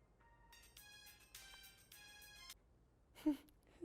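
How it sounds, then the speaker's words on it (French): An electronic ringtone plays a bright, repeating melody in short bursts, with a brief voiced sound near the end. "C'est quoi cette sonnerie-là?"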